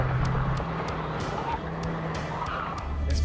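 A Mitsubishi EVO X MR all-wheel-drive car drives hard with a continuous engine roar and tire noise, loud and steady throughout, with faint talk underneath.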